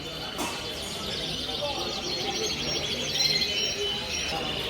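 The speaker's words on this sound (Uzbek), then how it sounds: "Sveji, eng glavnisi sveji kanareykalar bular." Canaries chirp and trill at a bird market, their bright, rapid song running over a busy background murmur of people talking nearby.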